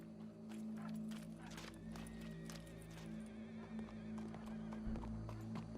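A horse in the video game Red Dead Redemption 2 clip-clops at a steady walk, quiet and fairly close, over a sustained low drone with faint crowd noise in the background.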